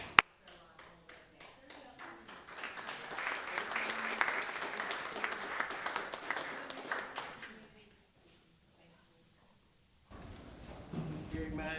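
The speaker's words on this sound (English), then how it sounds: "And so I personally just want to applaud." An audience at a school board meeting applauds for several seconds. The applause swells and then fades into near silence before a voice resumes speaking.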